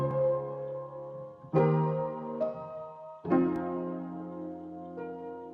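Layered piano sample drenched in large reverb, with slow sustained chords swelling in a few waves and long washy tails forming a soft atmospheric texture, moderately quiet with no voices.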